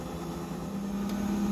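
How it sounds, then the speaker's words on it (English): Drum of a GE Profile Ultrafast combo washer dryer spinning up toward 400 RPM, a steady close hum with a low tonal drone that rises slightly in loudness over a brief stretch, no voices. "it's making its way to 400 RPM. And then after plateauing for a bit, it will start climbing to 800 RPM."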